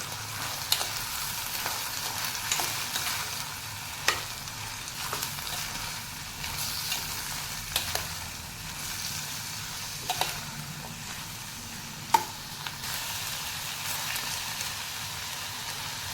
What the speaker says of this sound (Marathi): आता वालाच्या शेंगा घातलेल्या आहेत त्याही मी दोन मिनटं परतून घेणार आहे